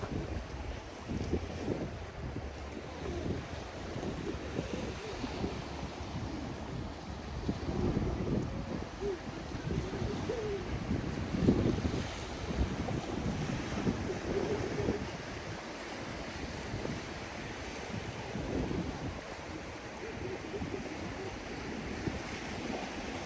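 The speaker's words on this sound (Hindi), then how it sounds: "नाजरीन, ये गहरा समंदर है।" Deep sea waves and steady wind on the coast near an Edinburgh lighthouse, a continuous rushing wash of surf with gusty wind buffeting the microphone, fairly loud and constant throughout with no voices.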